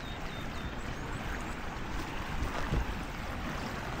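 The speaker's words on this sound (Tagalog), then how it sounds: "malakas ang agos." A strong river current rushes past in Norzagaray, Bulacan, a dense, steady roar of flowing water filling the whole short stretch without voices.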